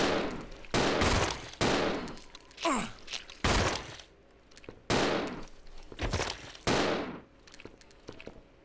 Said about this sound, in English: Let's go ahead and shoot these things.